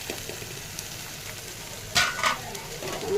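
Chopped tomatoes land in a pan of onions frying for prawn masala, adding a brief loud splash and clatter over a steady low sizzle, with faint talk nearby.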